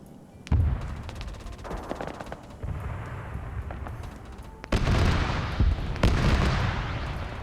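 Video game battle with heavy gunfire: sharp loud shots and rapid bursts, some booming impacts, dense and close with rolling echoes between volleys.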